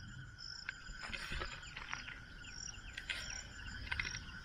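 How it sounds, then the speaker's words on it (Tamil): Insects chirp and buzz in a forest near a river, layered high trills and scattered short calls over a steady low background, moderately distant and faint with no talking. "பூச்சி எல்லாம் கத்துது"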